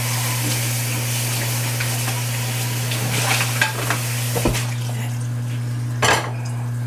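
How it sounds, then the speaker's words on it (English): Cremini mushrooms saute in a pan for a garlic chicken pasta, a soft steady sizzle under a constant kitchen hum, punctuated by a few clinks and scrapes of a utensil against cookware. "saute those cremini mushrooms because I like them a little bit sauteed"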